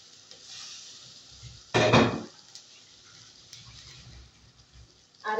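Meat being stirred and sautéed with spices in a pan, soft sizzling throughout with a loud clattering scrape of a spoon against the pan partway through and another at the very end.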